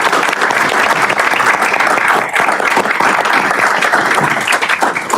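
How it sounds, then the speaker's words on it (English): Loud, sustained applause from a forum audience greets the panelists at an aviation industry event. Many hands clap in a thick, continuous roar that holds steady for several seconds, with a faint murmur of crowd beneath it. "let's give a round of applause to all of our panelists"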